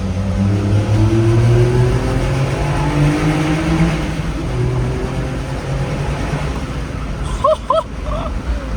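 A Honda Beat scooter accelerates in second gear through a tunnel at Zion National Park, its engine droning steadily and echoing loudly at first, then easing off toward the end. Brief high chirps can be heard near the close.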